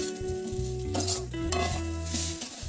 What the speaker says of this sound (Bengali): নুন আর হলুদ দিয়ে আলুটা ভাজা হতে থাকুক